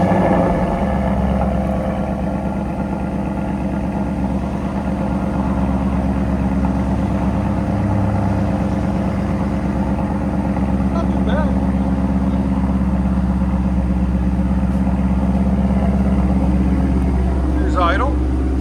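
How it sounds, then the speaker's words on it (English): A 2019 Ford Mustang GT with a 5.0L V8, custom Corsa Xtreme exhaust and Vibrant resonators idles close by, a steady deep rumble holding at even loudness throughout. "2019 Ford Mustang with a custom Corsa Xtreme system with vibrant resonators in the middle"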